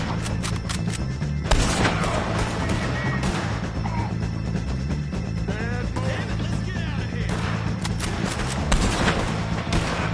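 Gunfire in the video game Red Dead Redemption 2, repeated sharp bursts and heavy impacts scattered across a busy mix of music and ambient noise, with occasional voices.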